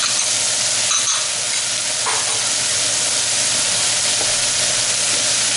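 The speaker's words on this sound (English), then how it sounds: "We're going to cook these over a medium heat until they just turn brown." Chopped onions, carrots and celery frying in marinade solids over medium heat make a loud, continuous sizzle and hiss, with faint stirring sounds and no voices.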